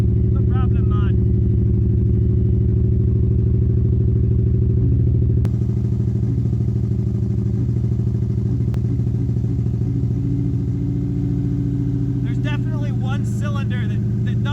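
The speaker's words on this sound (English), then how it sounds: "Cylinder that doesn't run quite right until the engine's run for about 10 seconds." A Subaru WRX engine turns over and settles into a loud, close, rough idle, one cylinder stumbling for roughly its first ten seconds of running, with a steady deep drone and a few light clatters.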